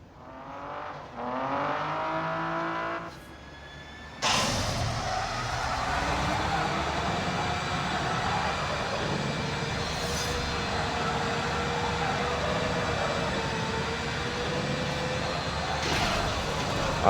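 A fast car's engine roars steadily in the Need for Speed No Limits racing game during the Calamity live event, loud and continuous, with a brief dip and a sharp surge early on.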